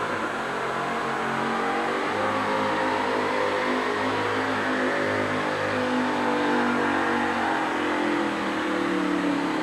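The Bigfoot monster truck revs hard at a 1988 wheel-standing and sled-pulling event, its loud engine roar rising and swelling steadily without a break.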